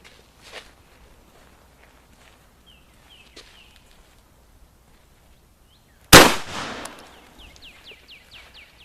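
A Remington 1100 shotgun fires a single loud, close blast of Critical Defense buckshot after quiet outdoor shuffling, and the shot echoes and decays as birds chirp.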